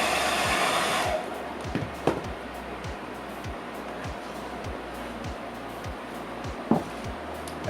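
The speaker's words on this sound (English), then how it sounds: "By cycling it through hair dryer, chill bar, so you're heating and cooling and heating and cooling, that helps toughen it up and dry the filler as well." A hair dryer blows steadily on filler on an aviation seat cushion, a loud blast at the start that drops to a lower setting and hums on with a few clicks and knocks.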